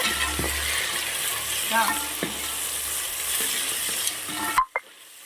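Onion, green chilli and mint frying in a pan for methi and dill biryani, a steady sizzle with scraping stirs and a few clinks, ending abruptly.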